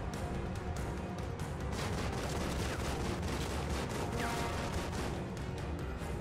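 Gunfire in The Evil Within, a dense, continuous barrage of sharp cracks and bursts layered over a rumbling background, steady and loud from start to finish.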